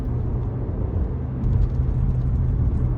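A 2015 Toyota Auris with a 1.33 engine pulling in second gear on an open road, a steady low engine drone and road rumble heard from inside the car, swelling slightly halfway through, with no voices.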